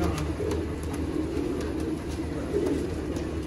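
A pair of Ferozpuri pigeons coo in soft, repeated low rolling calls, close and steady under a faint background hum, with no talking.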